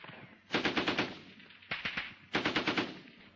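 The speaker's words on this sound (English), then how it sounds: "The gun engages the enemy, fed with ammunition by the number 3." A machine gun in a military training film fires three rapid bursts of repeated shots, the second burst shorter than the others, sharp and fairly close with no talk over it.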